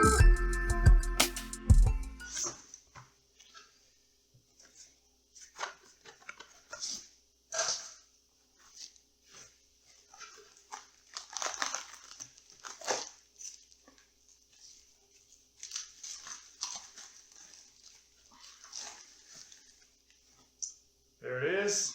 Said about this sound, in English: We're going to go ahead and get the graphics card installed.